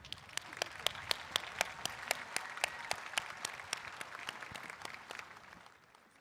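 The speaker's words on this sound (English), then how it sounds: "Please join me in a round of applause for our very talented choir." Applause from an audience at a high school commencement, for a choir, with distinct rhythmic claps standing out over a softer spread of clapping, fading toward the end.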